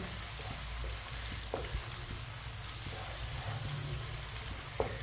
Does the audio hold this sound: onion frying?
yes